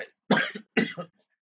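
Two sharp, close coughs in quick succession, each a short burst followed by a fainter tail, then quiet.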